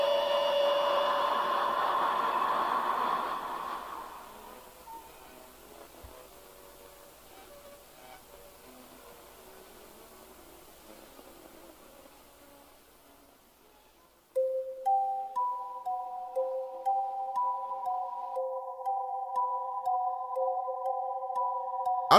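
Music from the Pokémon video games: a sustained, hazy synth wash that fades down, then a high, thin, repeating melody line of bright tones enters abruptly and loops steadily.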